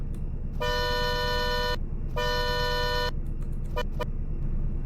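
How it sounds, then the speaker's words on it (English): A 2007 Struggatti Ettore car horn in a video game honks twice in long blasts, then gives two quick short toots, loud and close over a low engine idle. "Here's what its horn sounds like."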